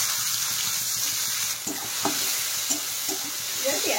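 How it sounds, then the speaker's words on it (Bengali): Chopped onions sizzle in hot oil with cumin seeds in a home kitchen, giving a steady frying hiss with a few soft stirring clinks partway through. "এবার দিচ্ছি পেঁয়াজ কুচি।"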